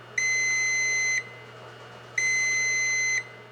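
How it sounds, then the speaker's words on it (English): A Stryker air mattress pump sounds its alarm in two clear electronic beeps, each about a second long at a steady high pitch, separated by a short pause, over a faint background hum. "Finally, the pump will sound an alarm"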